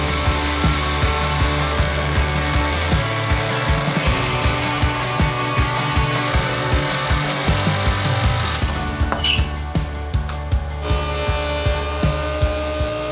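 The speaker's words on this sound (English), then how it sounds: "time to do the biggest router job of my life" A handheld router cutting a butcher block countertop during a van kitchen build, giving a loud steady whine with a rhythmic pulsing as it moves through the wood, close up and continuous.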